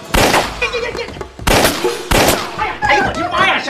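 A gun fired by pulling the trigger in a period drama scene gives about three loud, abrupt bangs in close succession, mixed with excited voices and commotion.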